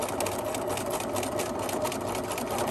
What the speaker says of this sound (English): And then backstitch all the way across the strap, and then forward,